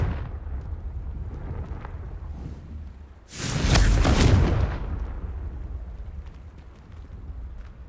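Confringo fire spell from Hogwarts Legacy bursting in one loud explosive blast around the middle, a broad rumbling boom that swells and then fades back into a quieter game background.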